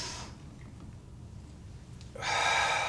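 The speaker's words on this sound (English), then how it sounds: "breathing in," A sharp breath drawn in during a barbell workout, a brief hissing inhale near the start that fades, then a louder, rougher breath rising in the last second, close and without talk.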